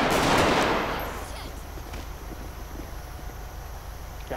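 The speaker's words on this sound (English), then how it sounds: "Shots fired, suspect down." Gunfire in a police roleplay video game: a loud burst of shots at the start that decays into a lingering echoing tail with faint scattered sounds, no talk.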